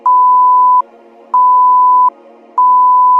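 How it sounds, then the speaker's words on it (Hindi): Buzzer of an Abdullah Salah time indicator unit, a mosque clock that sounds at azan, jamaat and makruh times, giving three loud, steady electronic beeps of equal length with short gaps between them and no voices. "अब्दुल्लाह सलाह टाइम इंडिकेटर में अजान, जमात और मकरू वक्त के शुरू में एक बजर की आवाज़ आती है।"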